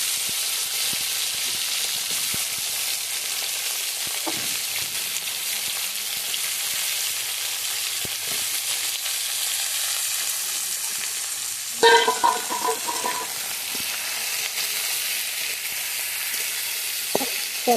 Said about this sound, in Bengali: তেলটা হয়ে এসছে, এবার কলাটা দিয়ে দিচ্ছি।